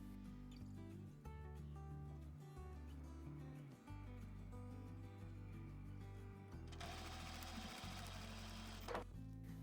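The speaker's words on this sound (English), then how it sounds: "Stitch along the edge, leaving a 1/4 inch seam allowance." Domestic sewing machine stitching fabric pieces for reversible baby slippers, a close steady motor whir with brief pauses and a sharper burst of higher mechanical noise near the end.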